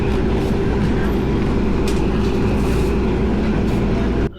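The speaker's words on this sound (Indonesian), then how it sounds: "saat ini aku berada di kereta api Ambarawa Express dari stasiun Surabaya Pasar Turi menuju ke stasiun Semarang Poncol" Loud, steady rumble inside the Ambarawa Express passenger train rolling along the rails from Surabaya Pasar Turi toward Semarang Poncol, with a constant low drone and faint rattles, cutting off abruptly at the end.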